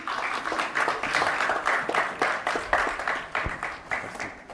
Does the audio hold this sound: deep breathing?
no